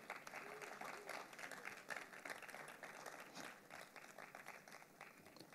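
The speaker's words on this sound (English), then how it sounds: "A round of applause for Casey." A crowd gathered at a church service applauds steadily for several seconds, the clapping dense and fairly distant, fading slightly toward the end.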